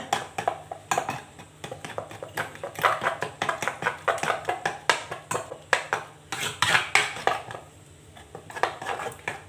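Fish larb made with featherback fish is stirred and worked in a mortar, producing a steady run of close, rhythmic knocks and scrapes with no voices.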